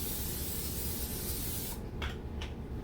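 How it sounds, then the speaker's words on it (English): Extra virgin olive oil cooking spray hisses steadily from an aerosol can onto an 8x12 baking dish, one long continuous burst close to the mic, then a couple of short spritzes at the end. "spray it down with some cooking spray"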